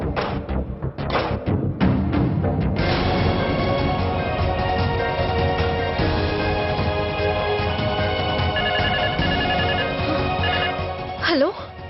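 A telephone bell rings continuously and loudly in a home during a Telugu TV serial scene, its bright repeated ringing tone filling the clip after a few thumps at the start.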